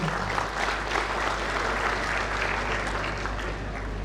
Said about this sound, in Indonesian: Aplaus yang meriah buat Pak Gubernur.